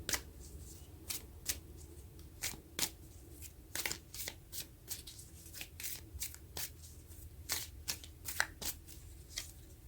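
Tarot cards are shuffled by hand close up, a run of quick riffling flutters and soft slaps in uneven bursts, quiet and with no voices.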